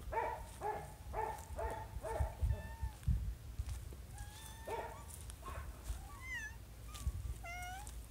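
A cat meows several times in drawn-out, wavering calls, with soft thuds and low background noise between them and no talking.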